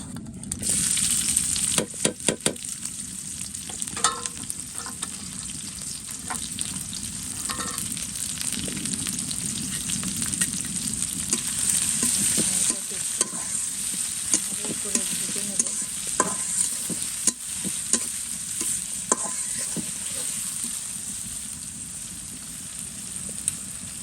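Chopped onion and green chili fry in a pan as a loud, continuous crackling sizzle. Stirring adds scattered sharp clicks and scrapes throughout, close up with no talk.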